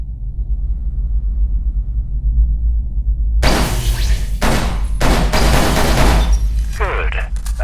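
Hip-fired gunfire in the game Scourge: Outbreak, several loud bursts starting around 3.5 seconds, separated by short gaps, over a steady low background rumble.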